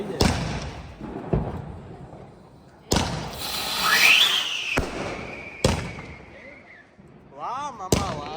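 Diwali firecrackers bursting nearby, several sharp loud bangs at irregular intervals with crackling and a whistling rocket-like streak in between, while people talk and exclaim around them.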